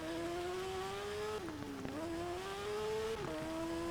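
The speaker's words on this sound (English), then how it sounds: "I've got headphones on and that engine sounds beautiful." A racing motorcycle engine in an Isle of Man TT video game drones at high revs, dipping briefly twice as gears shift or the bike brakes, then climbing again, steady and close.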